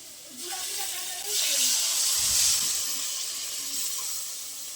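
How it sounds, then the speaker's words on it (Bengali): Water poured into frying masala for Bengali eggplant posto sets off a close, steady hiss and sizzle that swells after the first second and then eases off slightly. "এবার আমি পরিমাণ মতো জল দিয়ে দেবো।"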